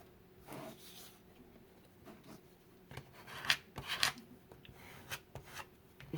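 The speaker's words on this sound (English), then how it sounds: "gift card to kind of burnish that down a bit" A gift card rubbed over paper on a craft concertina folder to burnish it down, giving soft scraping, rasping strokes in short bursts at close range with no talking.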